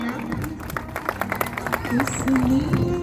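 Audience applause at a school Independence Day program in Sagar, India, with scattered claps over crowd babble and a loud voice or amplified tone sustained near the end.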